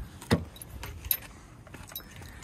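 A universal key fob with keys for a 2002 Subaru Outback H6 L.L. Bean Edition jangles close up, with a sharp metallic shake near the start and lighter clinks after, over a low background hum.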